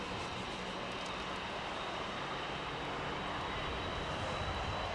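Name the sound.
Boeing 747-8 jet engines spooling up at LAX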